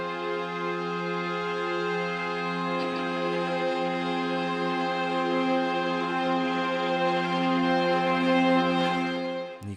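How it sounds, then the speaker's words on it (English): Spitfire Audio Fragile Strings plays an extreme evolution patch: sustained, discordant layered string tones with a scratchy bowed texture, held steadily and swelling slightly toward the end. "You can hear all that great kind of scratchy string playing, discordant."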